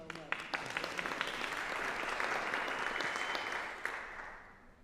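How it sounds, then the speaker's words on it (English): A school audience applauds at a community event, steady crowded clapping that swells and holds for a few seconds before tapering off, with some voices mixed into the clapping. "I want to start off with a round of applause to thank you guys"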